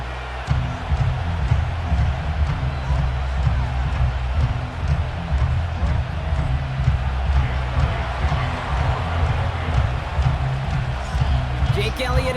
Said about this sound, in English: this crowd is loud and this crowd is ready for a ball game